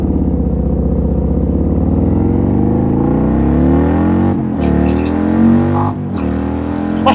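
Harley-Davidson CVO Road Glide ST motorcycle with a 135 engine accelerating hard, its loud throttle roar rising steadily through the gears with brief dips at each shift from first to second to third.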